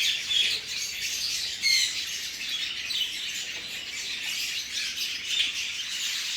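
Farm birds call together on a small farm as a continuous, fairly faint chorus of high chirps and squawks. A few sharper calls stand out, and no voices are heard.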